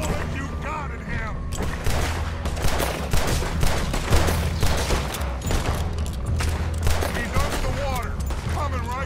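Dense gunfire from many guns rattles almost without pause in the video game Red Dead Redemption 2, loud bursts layered over low rumbling, with voices shouting underneath.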